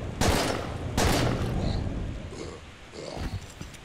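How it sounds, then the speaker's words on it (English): Gunfire from the survival horror video game Daymare 1998: two loud, sharp shots roughly a second apart, each followed by a decaying boom, then quieter scattered game noises trailing off. "I actually wasted a bunch of shots."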